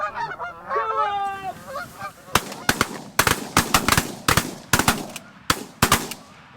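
Canada geese honk in a loud, close flurry during a late-season waterfowl hunt, then a rapid series of shotgun blasts cracks out, some in quick doubles, over fading calls.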